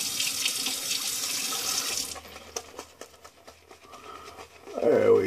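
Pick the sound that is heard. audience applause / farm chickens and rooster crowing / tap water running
tap water running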